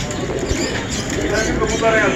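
Teddy pigeons at an egg market in Saddar, Karachi, give soft low cooing amid busy market noise and background chatter, a steady murmur with no distinct loud call.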